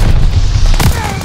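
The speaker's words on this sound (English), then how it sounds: "Friendly bombing run inbound" Bombing-run explosions in Call of Duty land as a loud, deep booming rumble with rapid overlapping blasts, fading slightly toward the end.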